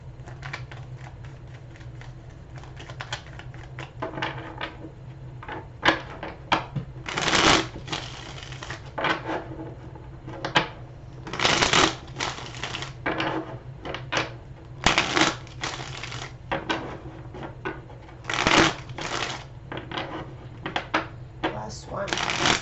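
Repeated riffling bursts of tarot cards being shuffled close by, with rapid crackling flurries broken by short pauses over a low steady hum.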